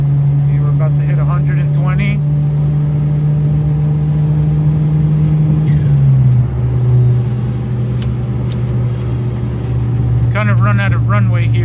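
Small engine of a 1994 Suzuki Cervo SR kei car droning steadily at high revs on a highway near the red line, dipping slightly in pitch midway, with a voice talking over the start and end.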